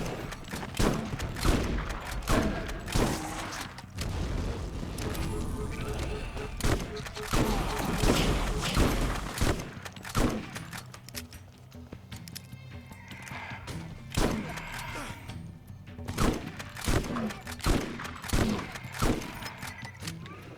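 Shotgun blasts from the Borderlands video game fire in dense, irregular bursts of booming reports layered over game music and effects, thick during the first half and sparser later.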